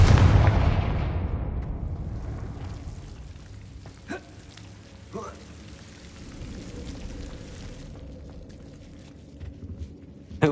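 A Confringo blasting spell explodes in the video game Hogwarts Legacy, a loud opening boom that rumbles and fades over a few seconds, followed by a few fainter pops and a closing burst.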